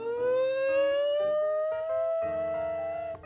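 A voice imitates a siren, holding one long wailing tone that rises steadily in pitch for about three seconds.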